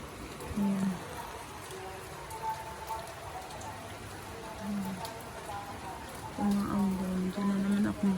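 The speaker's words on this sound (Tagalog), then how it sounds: "Umaambon." A light drizzle falls outside an open window at dawn, a soft steady patter of raindrops with brief bits of talking and some low tones over it.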